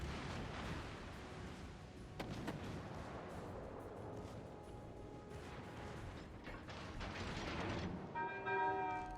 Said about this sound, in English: Our secondaries are doing a good job, so we get a lot of hits.